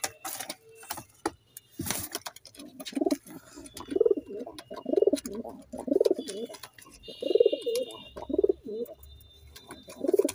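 A pair of green Madras pigeons coo in repeated low, throaty phrases at close range, a steady rhythmic series of soft rolling calls, with a few sharp handling knocks and rustles early on and no voices over the cooing.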